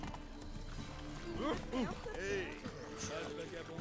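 Hooves of Roach, a mare in The Witcher 3, clip-clop in a steady game rhythm, with a horse whinny rising in the middle over background game ambience.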